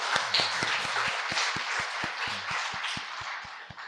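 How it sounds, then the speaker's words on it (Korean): A church congregation claps in a steady, even rhythm for several seconds, with a murmur of voices beneath the beat. "하나님께 영광의 박수 올리겠습니다."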